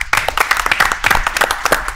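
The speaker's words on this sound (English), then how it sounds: "Give them a round of applause." A room full of people applauding, dense overlapping claps at a steady, fairly loud level with a few hand claps standing out near the front.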